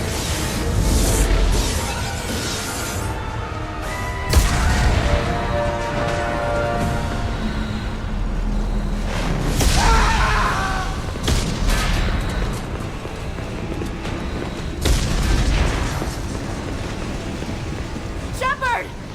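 Explosions rock the Normandy starship in Mass Effect 2: several heavy booms and crackling blasts arrive every few seconds over a rumbling, chaotic din, with people talking throughout.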